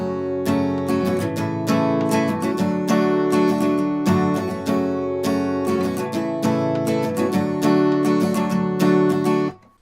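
Acoustic guitar strums a song in a steady down, down, down, up pattern, dense and loud throughout, close up with no voice.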